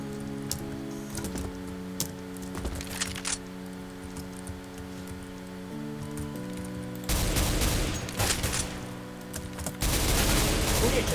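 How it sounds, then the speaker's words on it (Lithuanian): Counter-Strike: Global Offensive gunfire: scattered sharp rifle shots early on, then dense bursts of rapid fire later, set over a steady game tone and background drone. "Kurie čia šaudo?"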